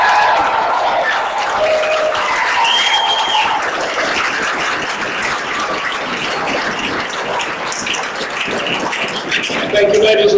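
A concert audience applauds after a patriotic encore, a dense, loud, sustained clapping across the whole crowd with faint cheers mixed in.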